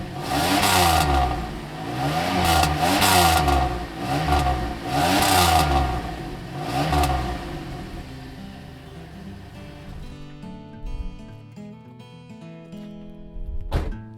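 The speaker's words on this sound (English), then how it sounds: "The exhaust in this thing, you know, when you really lay into it, it sounds like two prepubescent teenagers arguing." Chevrolet Camaro exhaust revved hard several times in rhythmic rising and falling bursts, loud and close, then settling into a quieter idle with a final short blip at the end.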